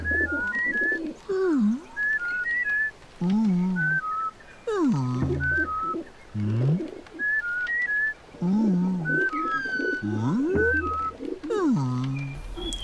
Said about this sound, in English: When Abe whistles, Elam seems to enjoy it.